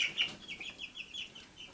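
Turkeys, a mix of toms and hens, cluck and chirp softly on a homestead in a quick string of short, fairly quiet calls.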